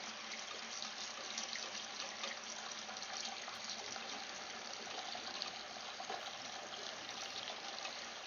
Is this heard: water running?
yes